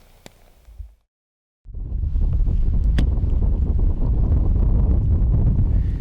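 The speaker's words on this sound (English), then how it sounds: "I'm pretty high up, so it's pretty windy" Strong wind buffets the microphone high on a wet, cold hillside, a loud, steady roar of rumbling gusts that starts after a short quiet gap and continues without letup.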